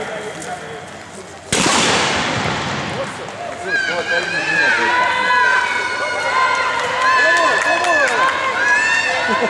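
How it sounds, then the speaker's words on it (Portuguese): A 50-metre girls' race for ages 7 to 9 at the Corrida Santo Onofrinha, run on grass: a sharp starting crack, then a loud cheering crowd, shrill whistling and shouts as the children run. "As crianças vão correr no gramado."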